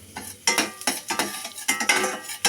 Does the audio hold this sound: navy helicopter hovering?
no